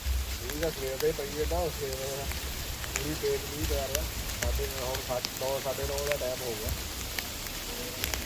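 Rain patters steadily across the flooded streets of Ludhiana, a constant close hiss of drops on surfaces beneath someone talking throughout.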